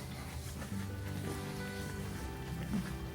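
Steady rain falls over a medieval French village in autumn, a continuous soft hiss with a low rumble underneath, close and unbroken throughout with no voices.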